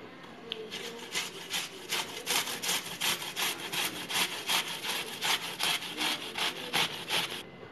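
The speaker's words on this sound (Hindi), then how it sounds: "जब तक हम सेब को ग्रेट कर लेंगे।" An apple is grated by hand for Indian apple kheer (seb ki kheer), making steady, rhythmic rasping strokes close up, about two or three per second, with no talking.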